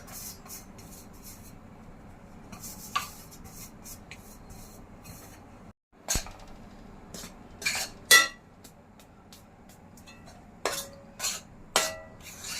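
Quarter kilo of flour roasting dry in a large kadhai, stirred with a metal spoon that gives sparse scraping and clinking strokes over a quiet background, with a short silent break partway through.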